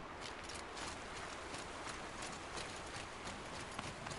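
A horse's hooves clip-clop in a steady trotting rhythm over a constant background bed in the Horizon Zero Dawn video game, quiet and continuous with no talk.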